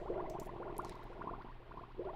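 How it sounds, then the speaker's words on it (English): Underwater ambience from the game Myst, made by blowing bubbles into a jar: a continuous close bubbling and gurgling with small pops and blips, steady and fairly soft. "that actually is the sound of the game designers blowing bubbles in a jar and recording it to make it sound suitably nautical under here"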